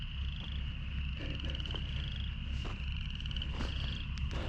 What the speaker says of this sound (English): you can hear the frogs, man,